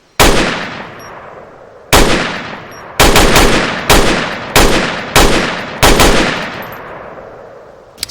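Scoped PU rifle fired in the World War II shooter mod IFA3WarMod: six loud, sharp single shots spaced about a second apart, each with a long echoing tail, followed by a faint metallic click at the end.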